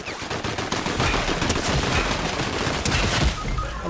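Dense, continuous video-game gunfire rattles loud and close for a few seconds, overlapping bursts with no talk over them.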